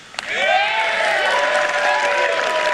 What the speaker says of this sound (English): And these idiots are clapping.